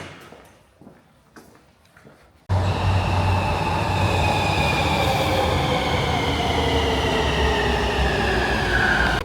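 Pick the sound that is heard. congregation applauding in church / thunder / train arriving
train arriving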